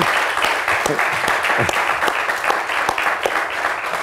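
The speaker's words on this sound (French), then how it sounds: "Pas de publicité, mais on peut acclamer." A church congregation applauds during a service, a dense, steady wash of clapping from many hands that holds at full strength throughout.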